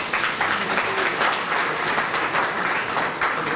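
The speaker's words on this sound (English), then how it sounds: "So let's give them a round of applause." Sustained, dense applause from a banquet audience at an annual donor appreciation dinner, loud and steady throughout with a faint murmur of voices underneath.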